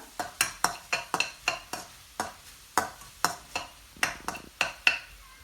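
A spoon scrapes and taps repeatedly through a masala potato mixture with turmeric and salt in a pan, the clacks and scrapes coming in an uneven rhythm, close and fairly quiet, with no voices.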